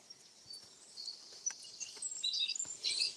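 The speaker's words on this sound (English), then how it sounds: "as long as I can hear the birds" Birds chirp and sing in short bright calls on an outdoor walk among bluebells and cleavers, faint at first and growing busier and louder toward the end, with no talking.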